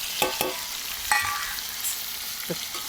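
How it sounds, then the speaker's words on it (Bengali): Spices sizzle in a pan with salt and turmeric as they are sautéed, giving a steady hiss broken by a few sharp scrapes of stirring. "ভালো করে কষানো হোক।"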